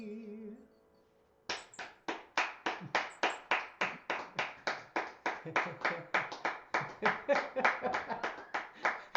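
A congregation at a spiritual living service breaks into steady applause after a brief quiet moment, many hands clapping in an even, fairly close patter that continues throughout.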